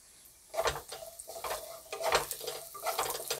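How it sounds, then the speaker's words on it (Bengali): Lentil dumplings (bori) drop into hot oil in a kadai, giving bursts of sizzling and spluttering with light utensil scrapes, close and moderately loud, no talk. "তেলটা গরম হয়ে গেছে, দিয়ে দিচ্ছি বড়িগুলো।"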